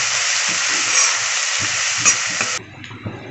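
Sliced onions sizzle in a pan while a spoon stirs them with salt and turmeric, giving a bright frying hiss with soft scraping strokes before the sizzle drops away near the end.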